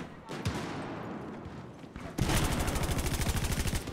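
Gunfire in a video game: a few scattered shots early on, then a sudden burst of loud, rapid automatic fire with a steady rhythm that runs to the end.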